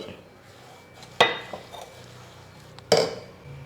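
A spoon stirs a coconut and sugar burfi mixture in a pan, with two sharp metallic clanks against the pan set apart by quieter scraping.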